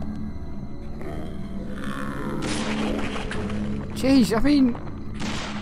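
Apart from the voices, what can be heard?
shotgun fire in Deadly Premonition video game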